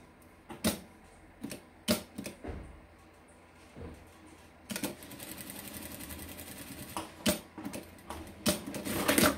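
A sewing machine stitches the corners of a small fabric pouch, in short rapid mechanical bursts separated by pauses, then a longer continuous run of stitching near the end, with no voices.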